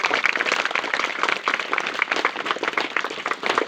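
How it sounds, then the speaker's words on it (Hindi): A gathering claps loudly to welcome a retiring government teacher as he is garlanded. The clapping is dense, rapid and crackling, close and sustained throughout, with no speech over it. "जोरदार तालियों से स्वागत"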